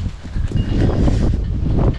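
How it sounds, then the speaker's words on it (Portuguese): Cold wind blowing outdoors on a farm, loud gusty low rumble buffeting the microphone, continuous with slight rustling. "Nossa, que vento gelado."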